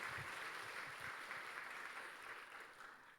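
A church congregation at a Korean testimony service claps together, a soft, somewhat distant patter of applause that thins out toward the end.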